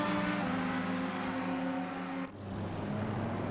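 Ferrari and Audi race cars speeding in a PS5 racing game at Circuit of the Americas, a loud sustained engine drone with steady harmonic whine that drops suddenly partway, then continues lower and rougher.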